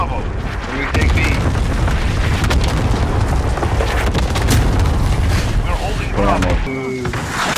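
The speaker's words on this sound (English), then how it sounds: "Enemy cluster strike incoming" Cluster strike explosions in Call of Duty Modern Warfare multiplayer, a dense continuous barrage of loud booming blasts and gunfire-like crackle filling the clip, with game voice lines heard over the din.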